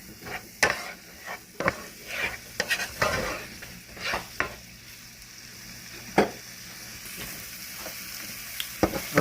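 Minced garlic sweating in a pan for a creamy shrimp pasta, giving a soft steady sizzle with scattered scraping clicks from stirring, close by and with no talking.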